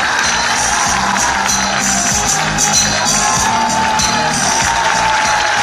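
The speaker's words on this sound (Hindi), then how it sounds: "अपने नौजवान भाई का भरपूर इस्तेकबाल करें, तालियां बजाकर इस्तेकबाल करें।" A large crowd at a Pak Muslim Alliance gathering claps and cheers to welcome a young speaker, a loud dense wash of applause and shouts that runs unbroken throughout.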